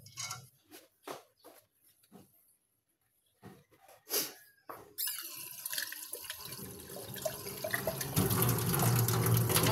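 Water pours steadily from a tap while washing outdoors, starting after a few brief bumps and rustles and then running as a loud, continuous rushing stream that grows fuller toward the end.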